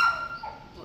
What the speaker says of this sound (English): the dogs around him that are all barking, barking,